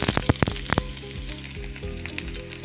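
Onions dropped into a hot pan, opening with several sharp spitting pops before settling into a dense, close sizzle.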